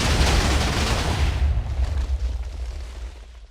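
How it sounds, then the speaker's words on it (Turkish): A Minecraft TNT explosion bursts at once with a loud rumble, then its roar slowly fades out over a few seconds. "TNT'ler patladı"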